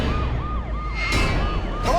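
An ambulance siren wails in a repeating rise-and-fall pattern, fairly close and loud, with short bursts of noise breaking in near the middle and end.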